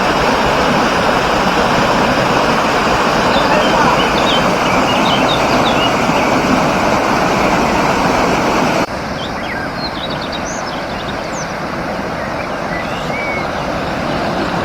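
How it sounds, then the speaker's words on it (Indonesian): Continuous roar of the Kassi Rindu waterfall in Parangloe, Gowa, a loud, steady rush of falling water close by, with faint bird chirps scattered above it. "Air terjun lagi Om Curo."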